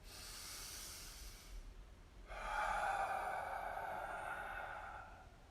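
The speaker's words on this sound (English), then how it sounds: "Breathing in." A long, deep inhale during a pranayama breathing exercise, a steady airy hiss that swells after a brief pause and holds for a few seconds, close and clear with no talking.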